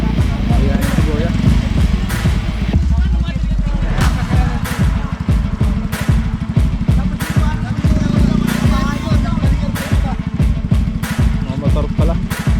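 Motorcycles pass by on a farm road, their engines sputtering and revving in repeated bursts under steady nearby conversation.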